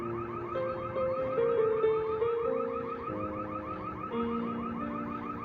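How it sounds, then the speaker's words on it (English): A car alarm wails nearby in a steady repeating electronic cycle of rising and falling tones, loud and continuous for several seconds with no voices. "That's the alarm."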